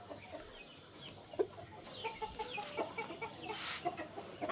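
A large tiger rooster on a rooftop farm in Rajshahi clucks several times in short, uneven calls, close and fairly loud over a faint background hiss, with no talking.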